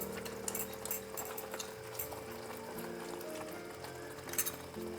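A little water is poured into a small bowl during cooking, heard as quiet, brief splashes and trickles close by over faint kitchen background noise.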